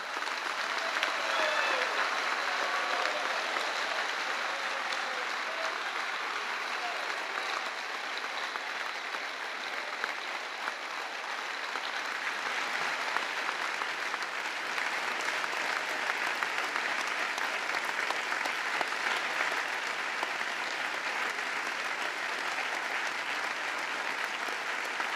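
About 3,300 workers and delegates of popular movements from around the world give the Pope a standing ovation after his speech: loud, dense, sustained applause from a large crowd that fills the whole stretch with no talking.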